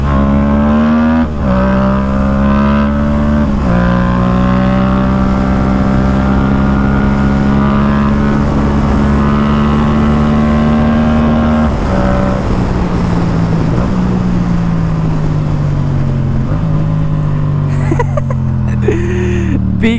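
Yamaha FZ-07 motorcycle ridden hard at full throttle, a loud close engine roaring up through the revs in repeated rising pulls, with brief dips at gear shifts and strong wind noise.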